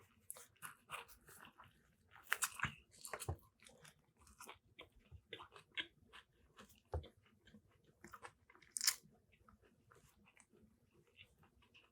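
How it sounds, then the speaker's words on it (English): A veal and lamb shawarma wrap is bitten into and chewed up close, with moist crunches and smacking bursts scattered irregularly over a quiet background. "Let's go for this first bite here of this veal and lamb wrap."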